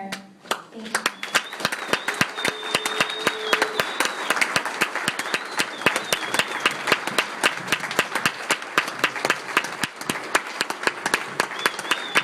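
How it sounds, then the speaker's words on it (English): Sustained applause from an audience at a melanoma charity fundraiser, rising right after a speech ends: dense, steady clapping for the full length, fairly close and loud, with a few faint tonal tones running beneath. "Big round of applause for Jessica."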